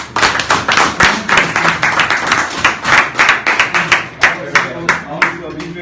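An audience at the launch of a digital transit platform in Liberia claps in close, fairly loud, uneven bursts while people talk over the applause.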